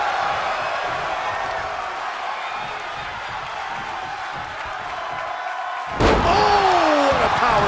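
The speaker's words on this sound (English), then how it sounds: "Oh, what a power slam" Power slam in WWE 2K22, a single heavy body-on-mat impact that lands near the end over steady arena crowd noise, followed by a ringing, rising tone.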